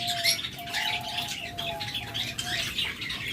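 Lovebirds, budgerigars and cockatiels in a crowded bird shop, giving a dense, continuous chorus of chirps and twitters with wing flutters. A thin high whistle line runs through it, close and steady, with no talk.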